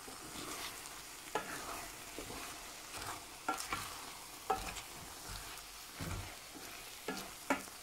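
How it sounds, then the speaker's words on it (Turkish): Eggs frying with mushrooms in a pan in a village kitchen, a steady soft sizzle with intermittent scraping stirs of a utensil against the pan, fairly faint and without talk. "Beyazı pişsin. Beyazı pişiyor bakın."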